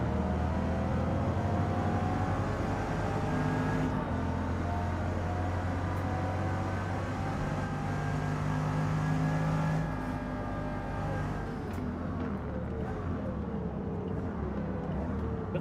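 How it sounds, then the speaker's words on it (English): A Bugatti in Gran Turismo 7 accelerates with a steady, loud engine roar, its pitch climbing through several gear shifts, with a brief lift near the end before it pulls again. "acceleration of the Bugatti versus the other cars is ridiculous"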